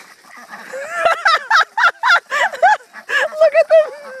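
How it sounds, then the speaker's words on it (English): Several ducks quack and honk in a loud, rapid run of nasal calls close by, with a few pauses between bursts and a human voice faintly in the background. "Them are ducks."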